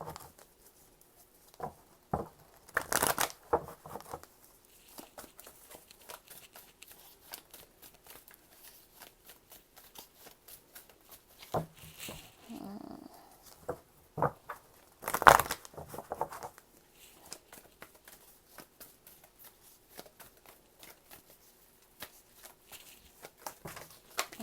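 Tarot cards are shuffled and drawn by hand, a series of soft riffling flutters and light slaps with quiet gaps between, close and gentle.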